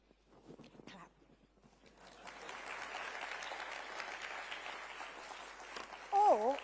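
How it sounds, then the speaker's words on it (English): Applause from a conference audience at a Liberal Democrats spring conference speech, sparse claps rising into sustained, fairly even clapping across the hall, with a brief voice near the end. "Clap."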